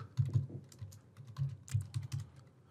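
Keys clatter on a computer keyboard as a short name is typed, a quick close run of soft clicks in uneven bursts with no talking over them.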